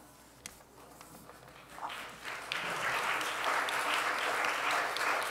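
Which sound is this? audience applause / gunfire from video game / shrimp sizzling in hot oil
audience applause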